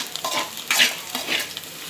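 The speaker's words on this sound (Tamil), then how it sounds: "இஞ்சி பூண்டு பச்சை மிளகாய் தட்டி வச்சு மிக்ஸ் பண்ணிக்கலாம்." Crushed ginger, garlic and green chilli are stirred into mutton curry in a pan, with several close, quick scraping strokes over a low sizzle.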